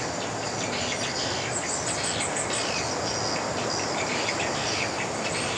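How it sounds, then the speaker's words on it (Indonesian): A dense chorus of high, rapid chirping calls from many swiftlets, continuous against a constant hissing background. "Ternyata suara berisik itu adalah suara burung walet."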